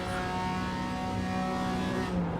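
A BMW M4 G82 GT4 race car held at full throttle on the Indianapolis road course in iRacing, its engine droning steadily at high revs with a rich, sustained harmonic whine that stays loud and unbroken throughout.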